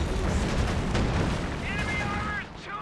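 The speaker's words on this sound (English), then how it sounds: "Here are multiple Pack 40 shots" Pak 40 anti-tank gun shots in the Company of Heroes 2 video game, heavy booming blasts that roll into a dense battle din, with a brief whistling tone near the end.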